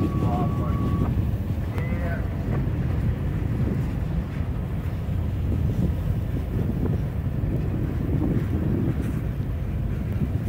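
Strong wind roars steadily into the microphone during a snow squall near a railway line, a constant loud buffeting rumble that lasts the whole stretch with no clear voices over it.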